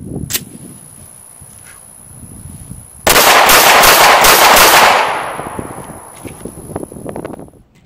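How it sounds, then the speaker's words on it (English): HK VP9 pistol fired rapidly at a shooting range, five loud close shots in quick succession with a ringing tail, preceded and followed by quieter handling sounds. "we're going to go ahead and press out 5 rounds as quick as we can while trying to maintain that target"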